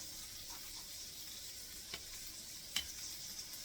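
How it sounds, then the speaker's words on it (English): French toast and sausage frying in a pan make a soft, steady sizzle, with a few faint clicks and one brief sharper tap. "Now we just gotta flip the French toast"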